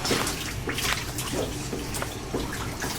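Running water splashing over a person being rinsed in a bathtub, a steady, close, full gush with small drips and splatters throughout.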